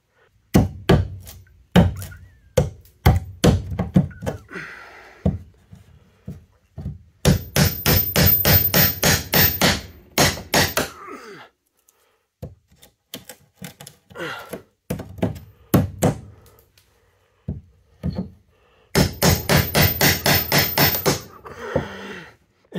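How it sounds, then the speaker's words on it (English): Nails driven with two hammers at once, one in each hand, while fixing up a 50-year-old pole barn: loud, close, sharp rapid strikes in fast rhythmic bursts separated by short pauses. "I do need two hammers because using just one pops the heads off the nails."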